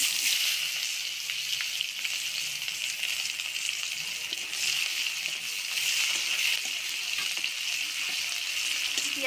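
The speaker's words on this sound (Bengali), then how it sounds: "এবার পেঁয়াজ কুচিগুলো দিয়ে দেব।" Chopped onions hiss and sizzle steadily in hot oil with cumin and a bay leaf, cooking down for a village-style grass carp fish curry. The frying sound is loud, close and continuous, with no talking.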